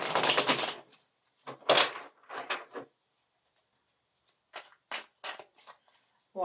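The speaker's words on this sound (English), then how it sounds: "I'm gonna shuffle this." Tarot deck being shuffled by hand, bursts of crisp riffling and flapping card noise separated by silent pauses, close and clear.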